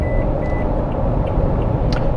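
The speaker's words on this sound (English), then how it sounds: "You guys can hear the wind now because I'm at a high speed." Inside a boxy 2021 Toyota Sequoia TRD Sport at 65 mph on the highway, a steady, dense wind and road roar fills the cabin, with faint tonal beeps in the background.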